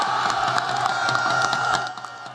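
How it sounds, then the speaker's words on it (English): A dense, excited crowd packed in to see the Vice President, chanting and screaming continuously at a steady, loud level. "The crowd hyped on adrenaline and fighting for space just to catch a glimpse of the Vice President chant and scream their lungs out"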